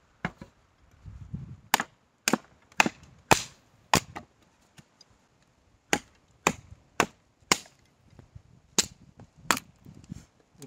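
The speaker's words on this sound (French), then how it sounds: "on va faire un petit peu de coupe. Donc là c'est de l'épicéa sec" A survival knife chops into dry, hard spruce wood: about fifteen sharp, loud, close strikes land at an uneven pace, some in quick pairs, with short quiet gaps between blows.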